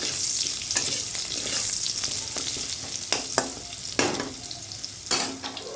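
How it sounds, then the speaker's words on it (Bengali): Steady, close oil sizzle fills the clip, broken by several sharp scraping knocks of a utensil stirring potatoes in the pan. "আলুগুলো একটু ভেজে হালকা ভেজে"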